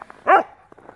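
Dog barking outdoors in the snow while wanting to play with a ball: one short, sharp bark, close and clear, framed by faint quieter sounds.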